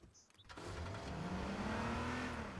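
A car in the battle royale game H1Z1: King of the Kill starts up and accelerates, its engine rising to a steady, moderately loud drone after a brief click-like start, with speech faintly underneath.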